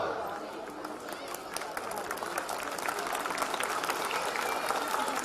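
An audience at a live comedy or poetry event claps in dense, sustained applause that swells slightly over several seconds, filling the hall at a moderate distance.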